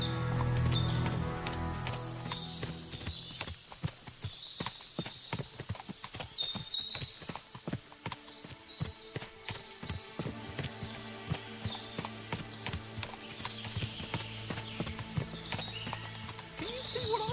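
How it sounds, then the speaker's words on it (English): Horses' hooves clip-clopping in Kingdom Come: Deliverance II, a steady uneven patter of many hoofbeats on hard ground, close and continuous, with occasional creaks and jingles of tack. "What a lot of horses!"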